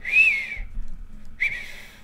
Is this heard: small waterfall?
no